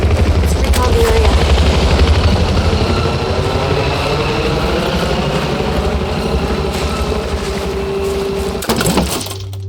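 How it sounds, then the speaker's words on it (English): A military helicopter in the Battlefield 4 video game approaches with a loud, steady rotor thump and turbine roar filling the scene, holding strong throughout before a brief clatter near the end. "Watch out! Incoming helo!"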